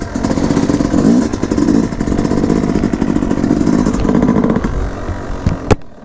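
Yamaha YZ dirt bike engine under way while riding on dirt, a loud, close, continuous buzzing drone with rapid pulsing rhythm, slight rises and dips in revs, and a sharp clack near the end.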